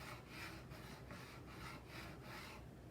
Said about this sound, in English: I'm not sanding it, I'm not filing the top, I'm filing the sides.